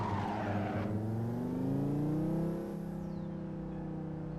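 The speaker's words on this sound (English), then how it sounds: "It's just a Volvo. 5-cylinder. This is how they sound." A Volvo S60R with a five-cylinder engine, heard from inside while driving: a steady, loud engine drone whose pitch sweeps up under acceleration, then eases off to a lower hum.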